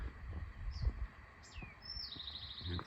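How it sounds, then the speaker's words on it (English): Birds chirp at a camp on a sunny morning near a big tree and a camper van: a few faint, thin whistles, then a quicker run of repeated high notes over soft, low background rumble. "Birds are chirping."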